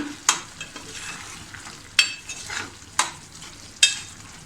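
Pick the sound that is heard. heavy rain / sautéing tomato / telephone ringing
sautéing tomato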